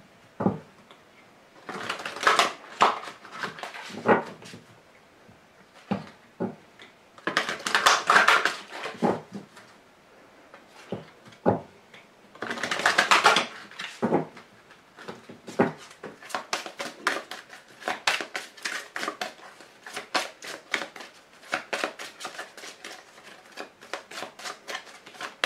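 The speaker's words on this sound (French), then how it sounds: "Je vous tire également une carte de l'archange Gabriel" An archangel Gabriel oracle card is drawn from the deck, with bursts of card shuffling and riffling, papery rustles and small taps, close and intermittent with quiet gaps.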